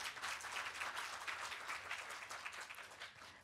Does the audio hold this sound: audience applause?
yes